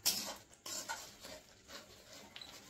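Spice paste with Kashmiri chilli being stirred and sautéed in a pan, a spoon scraping and clinking against the metal in irregular strokes, close and moderately quiet, without talk.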